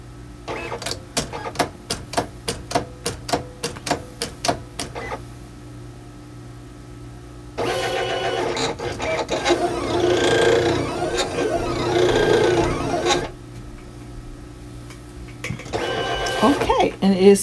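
A Silhouette Cameo 4 cutting machine with an auto blade slices cardstock, giving rapid rhythmic clicking pulses early on, then a long whirring, grinding run of the carriage and blade that stops and restarts near the end.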